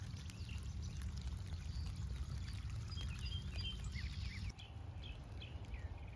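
Water pours steadily out of a pond being drained with a running shop vac, a continuous low splashing rush that stays fairly loud and even throughout, with faint bird chirps above it outdoors.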